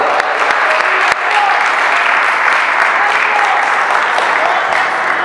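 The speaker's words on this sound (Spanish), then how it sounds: "Dale fuertes aplausos al Señor en esta mesa que espera su palabra" A church congregation applauds loudly at a worship service, a dense sustained clapping with a few sharp individual claps standing out near the start and faint voices beneath.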